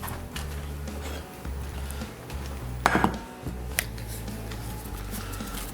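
A pan is grabbed and handled in a home kitchen, giving a short metallic clatter and clunk in the middle among quieter kitchen knocks and shuffling, close and moderately loud, with no talk.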